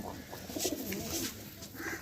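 A Madras pigeon coos in a steady low murmur, close by and moderately loud, with a few soft bursts of breathy noise above it.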